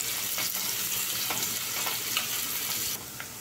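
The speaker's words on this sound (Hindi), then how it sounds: "अब डाल देंगे कटे हुए प्याज और प्याज को गोल्डन ब्राउन होने तक पका लेंगे" Chopped onions fry in hot oil for Awadhi chicken biryani, a steady close sizzle with light stirring scrapes and brief clinks, dropping slightly quieter near the end, no speech.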